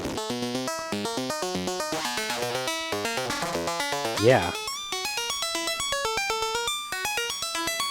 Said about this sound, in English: that wave folder sounds really nice.